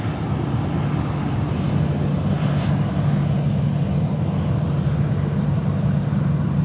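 Pilatus PC-12 turboprop taking off on runway 16 right at Sydney Airport in the evening, a steady loud engine drone with a low hum that holds throughout, with some wind noise and no talk.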